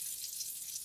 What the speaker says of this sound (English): fry the eggs, I used butter instead of canola oil or any oil